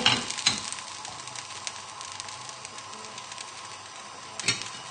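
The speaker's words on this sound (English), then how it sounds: "just leave it, give it the occasional stir, and just let it bubble, just so it just thickens slightly" A brandy cream sauce for chicken livers on bruschetta bubbles steadily in a pan. It makes a soft, even sizzle with scattered small pops, and a couple of sharper knocks come from occasional stirring.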